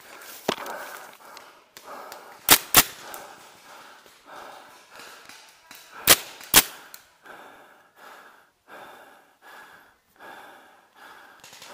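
Paintball guns firing outdoors during a game, two pairs of sharp close pops, each pair rapid, separated by a few seconds of rustling and heavy breathing.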